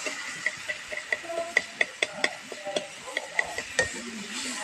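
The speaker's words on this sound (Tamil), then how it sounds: "சும்மா கொஞ்சம் நேரம் வதக்கிட்டு" Tomatoes sauté in a pan, soft sizzling under a run of sharp, fairly regular clicks and taps from a utensil stirring against the pan, close and quiet.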